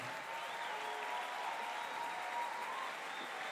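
A church congregation applauds and cheers in praise during a French-language worship service, a steady wash of clapping and crowd noise at moderate distance throughout.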